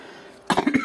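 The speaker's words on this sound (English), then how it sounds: "Excuse me, clear my throat." A person clears their throat once, a short, rough, cough-like burst of a few pulses heard close after a quiet room tone.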